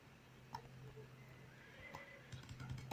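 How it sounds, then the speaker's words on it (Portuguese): A horse neighs in the video game Time Commando, faint and short, over a low electronic hum with soft ticking clicks. "O cavalo."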